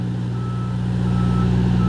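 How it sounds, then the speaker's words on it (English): A truck reverses close by, its backup alarm pulsing in a steady repeating beep over a loud, constant idling engine rumble, with no talk. "These trucks either pulling in or they pulling out."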